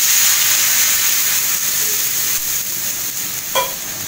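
Water hits a pan of fried onion and garlic with turmeric for a fish dish, raising a loud, steady hiss of sizzling steam with a sharp scrape of a utensil near the end.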